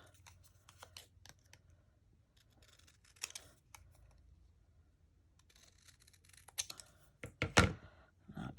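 Scissors cut a paper tag for a dried-flower craft project, giving quiet snips and small handling clicks, then a few louder close cuts near the end.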